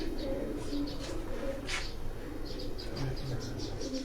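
Pigeons coo softly on a rooftop loft, with low repeated calls and a few chirps over a steady background hum, moderately close.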